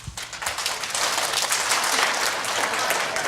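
A group of people claps hands together during an equine therapy exercise, a dense, steady patter of applause lasting a few seconds, close and fairly loud.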